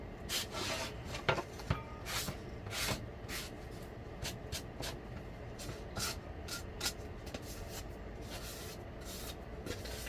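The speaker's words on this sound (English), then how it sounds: "Run the sandpaper over it a little bit. Make sure everything is smooth out." Sandpaper rubbed over a small Dollar Tree craft item, a series of short scratchy strokes repeating irregularly over ten seconds, quiet and close with no talking.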